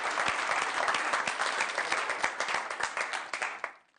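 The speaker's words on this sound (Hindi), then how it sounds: "जरा जोरदार तालियां बजाते हैं उनके लिए" Audience at a televised Hindi comedy-poetry show bursts into loud applause, dense continuous clapping from a large crowd that holds steady then fades out toward the end.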